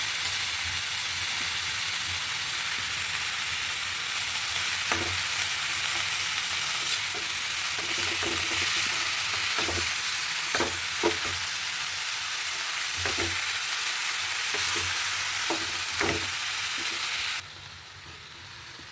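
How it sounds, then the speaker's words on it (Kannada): Grated raw Totapuri mango stir-frying in a pan, a steady loud sizzle with intermittent scraping stirs, continuous throughout, then dropping sharply near the end. "ಈ ಟೈಮಲ್ಲಿ ಮಾವಿನಕಾಯಿ ತುರು ಹಾಕಬೇಕು ಹಾಕಿದ್ಮೇಲೆ ಜಾಸ್ತಿ ಹೊತ್ತೇನು ಉರಿಯೋಷ್ಟಿಲ್ಲ"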